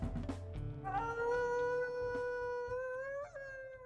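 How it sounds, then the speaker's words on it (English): A wolf howl from the WolfQuest video game rises into a long, clear tonal wail that wavers and swells, then bends upward near the end, loud and close with no talk over it. "Once again, one of the new howls."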